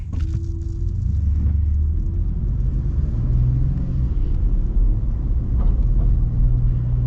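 A 2024 Ford F-150 turbocharged V6 running, a steady low engine rumble and road drone heard from inside the cab, constant and moderately loud, with no talking.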